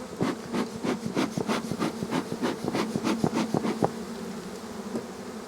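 Honey bees hum and buzz loudly and close by around an opened, active hive, a dense, wavering drone with rapid pulsing wingbeat bursts that settle into a steadier hum.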